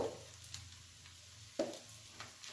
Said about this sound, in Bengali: এবার এটাকে মেশাতে থাকি, কষাই।